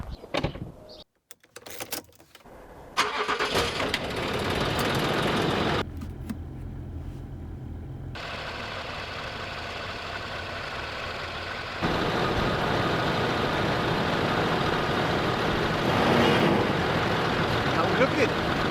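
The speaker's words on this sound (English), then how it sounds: "Time to stick the key in the ignition and hopefully we've got no leaks." A Land Rover Discovery 3/4, just repaired with a fresh air suspension valve block, cranks over and settles into a steady idle after a few clunks, close by, with the engine running continuously and growing slightly louder near the end.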